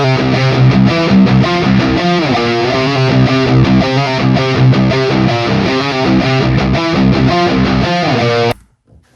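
Meaty triple-tracked distorted electric guitar riff, with a center track and two hard-panned side tracks set slightly lower, playing loud and dense throughout before cutting off abruptly near the end.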